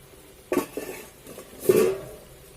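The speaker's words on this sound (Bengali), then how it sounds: "চলো বন্ধুরা, ঢাকাটা একবার খুলে দেখে নিই।" A lid lifted off a pan of pointed gourd korma stuffed with prawn filling after two minutes of covered cooking: two close metallic clinks and clatters about a second apart, with quiet between them and no voices.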